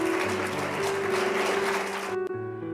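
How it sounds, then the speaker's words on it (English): Applause from the audience at the closing ceremony of the World School International Forum 2016, a dense steady wash of clapping with a sustained tone underneath that cuts off abruptly near the end. "So a big round of applause for them."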